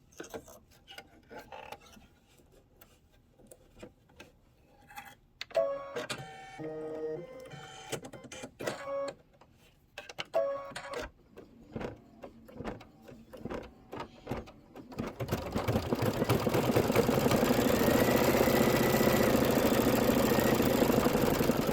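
An embroidery sewing machine runs steadily for several seconds, a loud continuous buzzing whir that rises after a stretch of quieter, intermittent mechanical ticking and brief tonal beeps.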